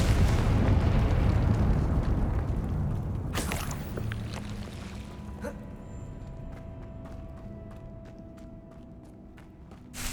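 A Confringo blasting spell erupts in the video game Hogwarts Legacy: a loud, sustained roaring explosion with heavy low rumble, a sharp crack partway through, then a slowly decaying tail with ringing tones.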